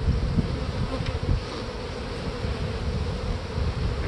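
Honey bees buzzing inside a hive being worked for queen rearing, a dense steady drone close by with small rises in intensity, no talking.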